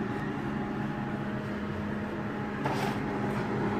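An SCC-IM20 continuous conveyor oven running with a steady, even whirring hum and broadband fan rush, close and unbroken throughout.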